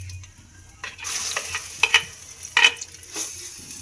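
Nigella seeds hit hot oil in a pan and set off a sudden sizzle, followed by a few sharp spoon clinks and stirring scrapes, close and moderately loud.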